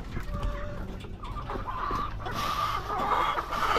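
Dekalb Brown laying hens clucking close by, a cluster of overlapping clucks and short calls rising louder toward the end, with no talk.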